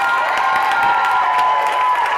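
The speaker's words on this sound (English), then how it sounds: "So let's give her a big round of applause." Crowd applause and cheering at a youth event honoring a contest winner, a steady dense wash of clapping with raised voices throughout, fairly loud and continuous.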